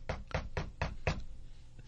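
Five firm knocks on a door in an even rhythm, close and solid, followed by a quiet pause with no voices.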